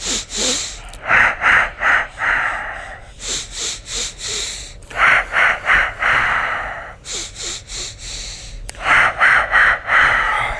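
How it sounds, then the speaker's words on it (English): Deep, rhythmic breathing exercise with four counts in and four counts out: repeated loud, close inhales and exhales in clustered pulses, separated by short pauses, with no talking. "As we're breathing like this"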